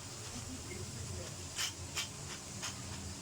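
Pasta chips frying in hot oil, a steady hissing sizzle with a few brief louder bursts of bubbling, close and continuous with no talk.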